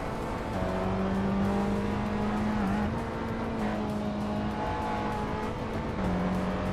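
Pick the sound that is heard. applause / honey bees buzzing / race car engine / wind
race car engine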